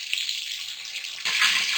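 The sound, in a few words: water poured into frying ginger, garlic and spices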